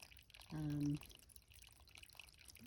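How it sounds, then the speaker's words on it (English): Small cold spring trickling at a trail campsite, a faint continuous watery patter and dripping close by, with a brief voice-like tone partway through. "Here's the spring at our campsite."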